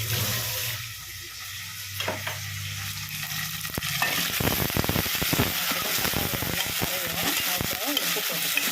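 Tomatoes with salt sizzle and sauté in a pan while a fish curry is being made in a home kitchen. The steady frying hiss is broken by stirring clatters and scrapes.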